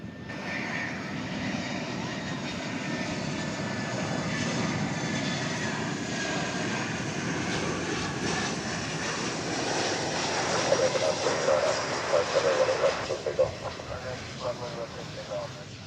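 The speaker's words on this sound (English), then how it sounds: "here we have an Airbus A319" An American Airlines Airbus A319 jet at DFW Airport produces a steady, broad engine roar that holds for the whole stretch and swells slightly near the end, with speech faintly present beneath.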